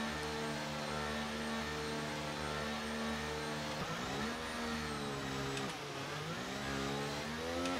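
F1 cars in the F1 23 video game rev their engines at the race start, a steady mid-pitched engine drone with rising and falling revs, no voices.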